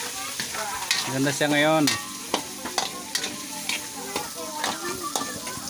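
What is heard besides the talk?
Japanese shellfish stirring and sizzling in a pan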